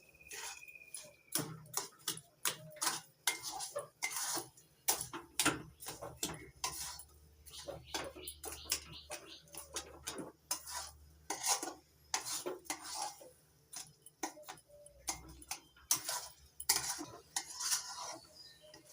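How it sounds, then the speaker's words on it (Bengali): Sandesh mixture being stirred continuously in a pan over medium-low heat, a spoon scraping and tapping the pan in a quick, fairly even rhythm, close but fairly quiet, with no talking. "এবার মিডিয়াম থেকে লো আঁচে রেখে অনবরত নাড়াচাড়া করে পাক দিয়ে নেব।"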